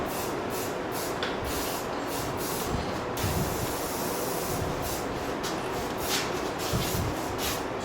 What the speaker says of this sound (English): put a what is this? Rust-Oleum American Accent Satin Finish on it.